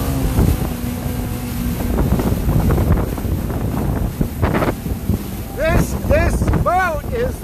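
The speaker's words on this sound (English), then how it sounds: "this whale watching boat is just returning" A New England Aquarium whale watching boat heads back in on open water, its motor droning under heavy wind buffeting the microphone, with waves and a few faint voices and calls toward the end.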